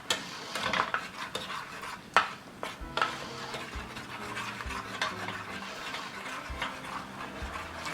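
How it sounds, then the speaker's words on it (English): A soup spoon stirs hoisin and peanut sauce together in a pot, making soft scraping swirls with a few sharp clinks against the side, fairly quiet and close. "You stir it well."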